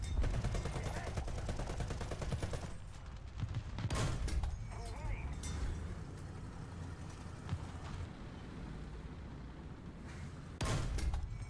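Gunfire in the War Thunder video game: faint, rapid bursts with a couple of sharper, louder volleys that stand out against a low rumbling background.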